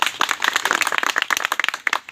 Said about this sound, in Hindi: तो एक बार हमारे भैया के लिए भी जोरदार तालियां बजाइए